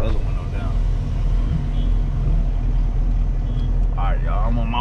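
Chevrolet Corvette Grand Sport driving along, a loud steady engine and road rumble heard from inside the car with someone talking over it.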